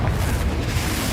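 A deep, booming spell explosion from the Confringo blasting curse in Hogwarts Legacy, heavy and rumbling, filling the whole moment at close range.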